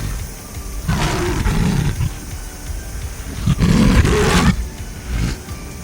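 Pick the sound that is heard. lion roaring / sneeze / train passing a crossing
lion roaring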